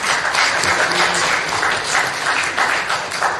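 Enthusiastic audience applause at an annual congregational meeting, loud and close, a thick continuous patter of many hands that swells and eases slightly.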